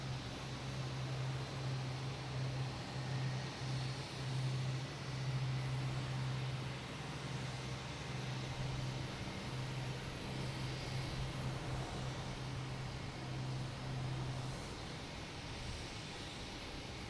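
An airliner lands at Boston Logan Airport, its engines a steady, broad roar with a low drone that holds throughout and thins toward the end, heard from a distance and without talk.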